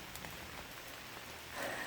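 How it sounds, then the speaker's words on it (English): Light rain falls steadily outdoors at an off-grid cabin site, a soft continuous hiss of drops on the ground and stacked lumber, with no voices. "it's already raining"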